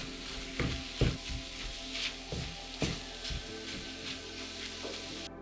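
Scrambled eggs with wild garlic fry in butter with a soft, continuous sizzle, broken by occasional scraping strokes as they are stirred; faint and close, with no talk.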